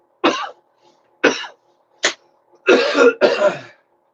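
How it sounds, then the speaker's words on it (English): Five harsh coughs up close: three spaced single hacks, then two longer raspy ones back to back. "especially if you have a chronic cough"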